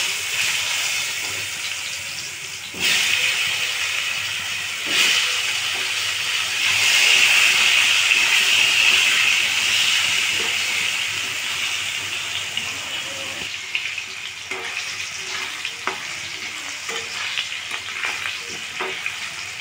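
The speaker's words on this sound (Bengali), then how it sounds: "আগে আলুটা ভেজে নেব" Potatoes fry in a pan of oil seasoned with salt and turmeric, giving a loud, continuous sizzle and hiss with occasional stirring clatter toward the end.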